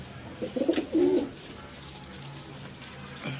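A pet homing pigeon coos nearby in a short burst of low, throaty notes, followed by quieter ambient sound.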